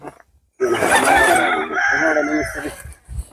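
A loud, close rooster crow stretching over a couple of seconds, with a second crow starting right after.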